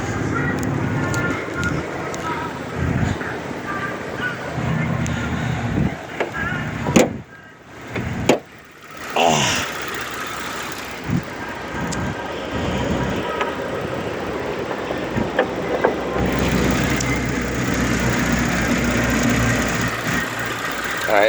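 A 2007 Ford Edge engine idles steadily with a low rumble throughout, briefly dipping quieter midway before the even drone resumes.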